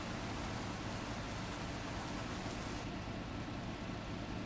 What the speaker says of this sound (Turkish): Abi bu yağmuru kapatsam mı acaba